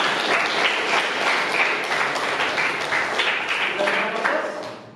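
A classroom full of people clapping together, a dense burst of applause that holds steady and then fades out at the end.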